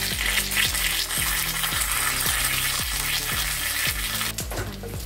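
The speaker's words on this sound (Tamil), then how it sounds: "இப்போ இதை தோசைக்கல்லி போட்டு எடுத்துக்கலாம். தோசைக்கல்லி வச்சுட்டு இது மேலேயும் கொஞ்சம் தேங்காய் எண்ணெய் விட்டுக்கலாம்." Fish wrapped in banana leaf frying with coconut oil on a dosa griddle gives a steady, close sizzle throughout, with a regular low rhythmic thumping running beneath it and no talking.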